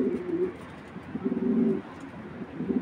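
Racing pigeons, a large-sized kit pair of Belgian and Dutch lines, coo in low repeated throaty bursts, close and fairly loud, with short pauses between phrases and no talking.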